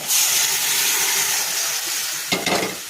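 Water poured into a hot pan while cooking an Indian jackfruit dish hisses and sizzles loudly and steadily, with a short clatter of stirring near the end.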